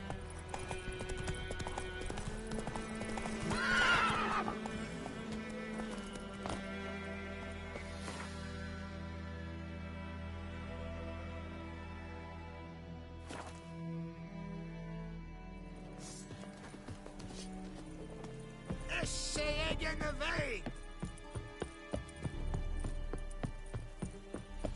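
Galloping hoofbeats of the horse Roach in The Witcher 3, a steady rapid clip-clop running throughout with game music and ambient sound, plus brief whinny-like bursts near the start and end.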